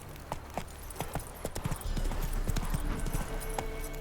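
A horse gallops in The Witcher 3, with quick, rhythmic hoofbeats that are loud and near over a low game rumble, and there is no talking.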